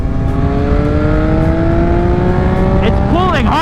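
A Yamaha XSR900 motorcycle engine revs hard and pulls through the rev range, its loud rising tone climbing steadily, then rapid pitch sweeps near the end as it shifts and surges again.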